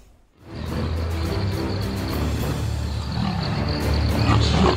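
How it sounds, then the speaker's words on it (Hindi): Two leopards clash in a fight, producing a continuous loud, rough growling and snarling roar that holds steady after a short quiet start, with no voices. "जहां पर दो गुलदार आपस में भिड़ रहे हैं। उनके गुर्राने की आवाज दूर तक सुनाई दे रही है।"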